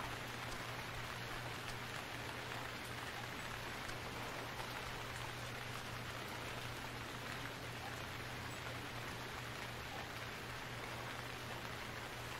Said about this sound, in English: You would just know it'd rain.